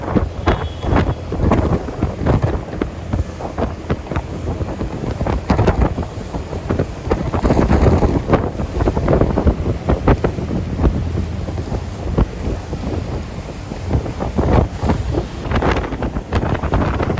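A speed boat runs fast across open sea from Mandwa jetty toward the Gateway of India, its loud, steady engine and hull slapping through waves under gusty wind buffeting, with thumps and splashes throughout.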